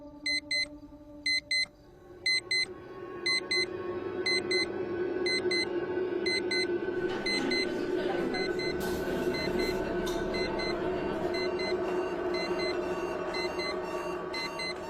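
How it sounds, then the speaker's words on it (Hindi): Electronic alarms going off by themselves in a hostel at night: repeated bursts of high beeping in a steady pattern, then a loud continuous drone and ringing that swells and persists to the end. "2 बजे अलार्म्स खुद बजना शुरू हो गए, जबकि मैंने तो कोई अलार्म लगाया ही नहीं था।"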